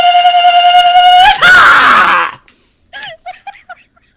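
Loud, sustained screaming during a live stream, a strained rising cry followed by a burst of noisy shouting, then several short, higher yelps or laughs trailing off.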